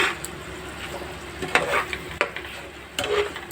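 Stirring katla fish curry with raw mustard oil in a pan: a steady sizzling hiss with scattered scrapes and knocks of the spoon, close and continuous.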